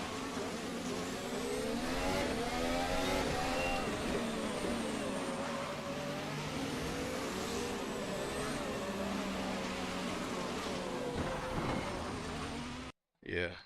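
A Formula 1 racing car engine in a video game drones loud and continuous, its pitch rising and falling through the rev range with a steady whine over the full stretch before cutting out briefly near the end.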